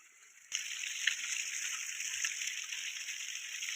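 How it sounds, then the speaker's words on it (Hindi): Glacier meltwater rushes nearby in a snowy mountain valley at Naltar. The steady, hissing flow starts suddenly and continues evenly, with no voices over it. "ये ग्लेशियर के पानी के बिल्कुल मैं करीब आया हूँ"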